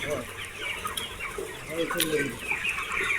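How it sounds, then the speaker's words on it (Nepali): Several chickens cluck and chatter continuously close by, a busy flock sound with some faint speech mixed in. "साथी यो चाहिँ कुखुरा रहेको छ है।"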